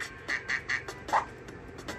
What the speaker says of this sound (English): that silhouette down there, it's a duck